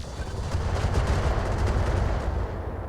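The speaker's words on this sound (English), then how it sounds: "So that's an AC-20 ammo explosion, and he's gone." A dense, rumbling blast rolls out as AC-20 autocannon ammunition explodes inside a mech in the Battletech video game with the Roguetech mod, a sustained crackling roar with no talk.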